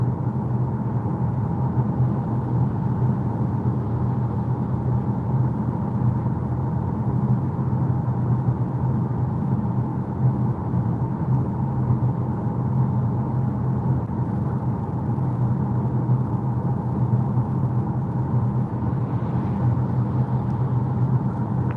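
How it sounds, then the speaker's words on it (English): Steady broadband road noise inside a moving Ford Puma on rough, loud asphalt, a constant low rumble and tire roar that holds evenly throughout with no voices. "here you can really hear the road noise"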